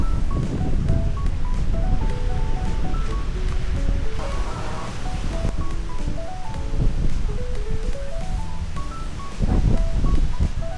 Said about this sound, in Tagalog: grabe ang lakas ng hangin dito sa Balabog Beach